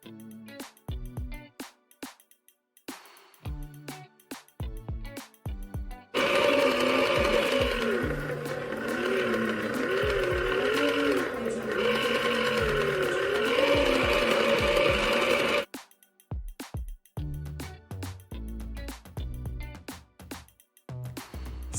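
A toy pottery wheel kit whirs steadily as a clay bowl is shaped on it, a continuous close motor hum with a wavering tone running for about ten seconds, bracketed by clicks and handling noises before and after.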